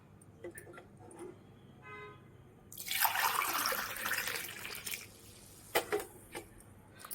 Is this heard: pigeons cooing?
no